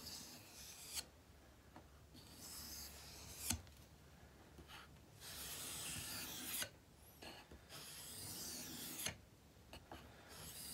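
Knife blade rasping back and forth on a 1,000 grit sharpening stone, repeated smooth grinding strokes separated by short pauses, close and quiet with no voices.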